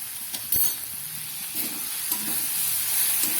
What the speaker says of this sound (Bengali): খুব ভালো করে এটাকে আমি একটু গোটা গোটাই থাকবে ডালটা, অথচ ভেজে কষিয়ে নেব এটাকে।